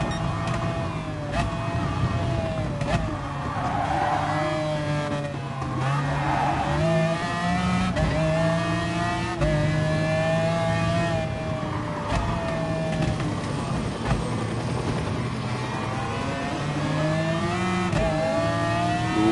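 Nissan GT-R racing car engine in the GT Sport video game, a loud continuous roar rising and falling through repeated gear changes, with brief tire squeals.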